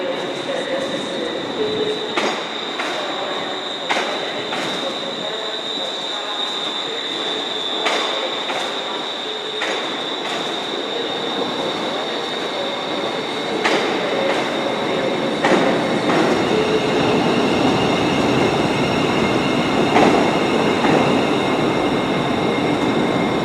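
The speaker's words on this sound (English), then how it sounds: "It's Class 380, a Bellio ScotRail service arriving, coming in from Ayr." A ScotRail Class 380 electric train rumbles steadily into Glasgow Central station, wheels squealing with a sustained high whine and periodic rail clicks, growing slightly louder toward the end.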